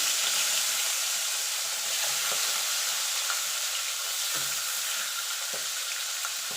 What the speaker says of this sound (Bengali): মাছের মাথাগুলো আমি কড়া করে ভেজে তুলে নেব